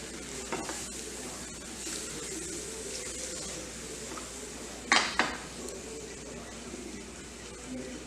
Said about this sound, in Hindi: इसको हिलाते रहेंगे लगातार हमने इसको विस्क करते रहना है।